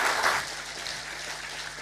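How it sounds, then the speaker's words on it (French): An audience at an agricultural technology seminar applauds, a short burst of clapping from a room full of people that swells briefly and then fades. "On l'applaudit."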